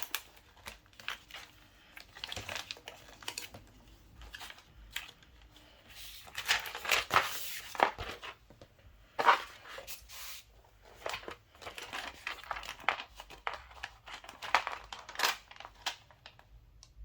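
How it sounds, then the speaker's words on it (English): Transfer paper for Cricut crafting crinkles and rustles as it is handled at close range, in irregular bursts of crisp crumpling and soft scraping, quiet overall and without talking. "So let's go ahead and get some transfer paper out."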